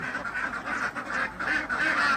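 Egg-laying ducks on a farm quack loudly and continuously in a dense, overlapping chorus, close by and with no talk over them.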